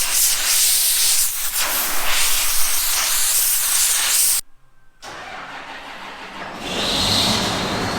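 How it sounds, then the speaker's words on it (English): Compressed air blasting out a combine's air filter, a loud rushing hiss in long bursts, with a short silent gap partway through before the blowing resumes and swells again. "we're gonna blow out the air filter"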